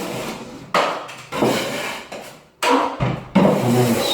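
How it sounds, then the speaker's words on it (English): A knife scrapes excess coving adhesive off a wall in several loud, close, rough strokes separated by brief pauses. "you then scrape the excess adhesive off the wall"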